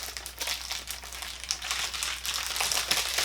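A paper mailer package being torn and crinkled open by hand, a continuous close rustle and crumple with brief sharper rips, no voices.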